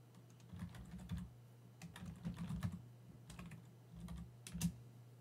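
A file name is typed on a computer keyboard as a quick, quiet run of key taps in short bursts with brief pauses, heard close and alone over a faint steady hum.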